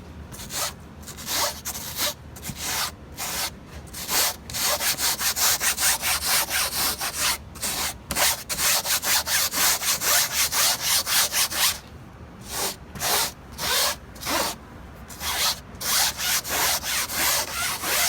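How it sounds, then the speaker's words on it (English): A person scrubs a stain on a car's ceiling with Tough Stuff cleaner, giving rapid, rhythmic back-and-forth rubbing strokes in close, steady bursts separated by brief pauses. "be sure to use plenty of effort when scrubbing them to ensure that the stain is lifted entirely"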